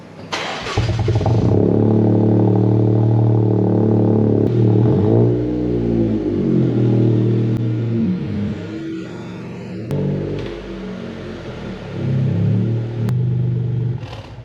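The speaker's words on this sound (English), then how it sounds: "that is a weird sounding 3-cylinder engine" A Toyota Yaris GR-Four three-cylinder engine revs up and down repeatedly, a loud, throaty, uneven drone with rising and falling pitch and no talking.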